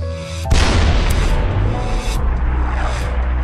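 A broadside of warship artillery in the Battlecruisers naval combat game: a loud, booming blast bursts in after a brief quiet moment and leaves a dense, rumbling roar that holds steady to the end.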